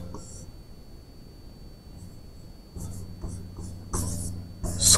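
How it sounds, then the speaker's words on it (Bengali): A sentence is written by hand with scratchy, intermittent pen strokes that begin faint and grow louder and denser toward the end. "তো এখানে ধরো আমি একটি বাক্য লিখলাম"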